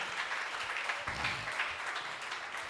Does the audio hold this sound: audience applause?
yes